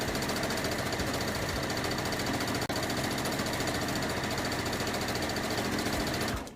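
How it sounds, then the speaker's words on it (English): A sewing machine stitches fabric for a reversible picture book bag in a continuous, loud, fast mechanical whir, with one brief pause partway through, running alone until it stops at the end. "So I wanted to show you how to do it just on the sewing machine."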